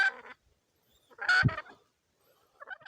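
A male red junglefowl caught in a trap gives two harsh, close calls, the second louder and lower with a throaty burst, followed by a fainter clucking trail at the end.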